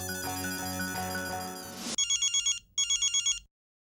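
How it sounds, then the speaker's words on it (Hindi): A musical tone plays, then cuts to an electronic telephone ring in rapid pulsing bursts, two ring cycles before it stops. "फिर से भिड़े का फोन आया।"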